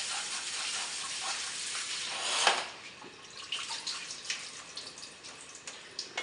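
Water running from a tap and splashing into a sink while broccoli is rinsed, a steady hiss followed by softer irregular splashes and drips.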